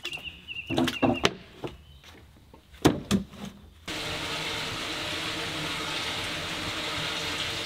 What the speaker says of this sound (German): Hier ziehe ich mir gerade vom Brunnen Wasser in meinen Kanister